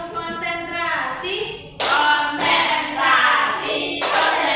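A second-grade class doing the Indonesian rhythmic concentration clap: bursts of many hands clapping together in a patterned beat, loud and close, alternating with children chanting in unison.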